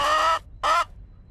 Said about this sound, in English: The chicken is an alarm.